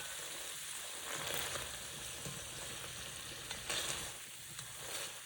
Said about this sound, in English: gently heating your lobster in that butter just to give it a beautiful flavor